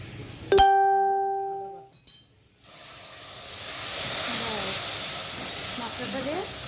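A spice paste of chilli and cumin sizzles in a pan, a steady, close hiss that swells after a brief sharp tone and a short silence, with no talk.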